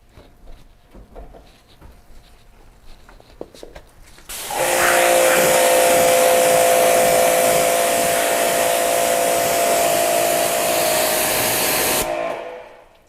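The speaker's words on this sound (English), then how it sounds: "Let's rinse." A car is rinsed with a pressure spray of water after a spray-on ceramic coating, a steady broadband hiss that starts abruptly, runs loud and continuous for about eight seconds, then cuts off.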